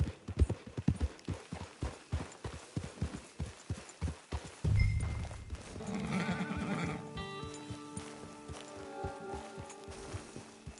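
Horse hooves in the video game Red Dead Online, a brisk, even clip-clop of a walking horse, then a loud whinny and snorting as the hoofbeats continue more softly beneath.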